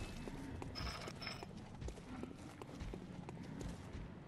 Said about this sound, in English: I hear big footsteps.